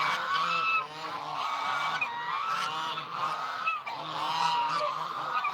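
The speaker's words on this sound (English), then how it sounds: "I think the geese saw me walking around in the kitchen" Many geese honk loudly and continuously nearby, their overlapping calls forming a dense, raucous chorus.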